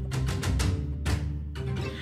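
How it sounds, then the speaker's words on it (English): Sampled col legno strings, bows turned over to strike the strings with the wood, heard as a series of rapid tapping attacks in clustered bursts with short ringing tails, close and moderately loud, no talking. "that means they turn the bow upside down and hit the strings with the bow"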